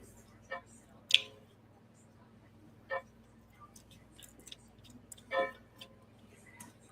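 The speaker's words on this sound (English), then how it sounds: "Is that a clock I hear?" A grandfather clock ticks faintly in the background, soft irregular clicks and taps sitting behind quiet room noise during a sports watch-along.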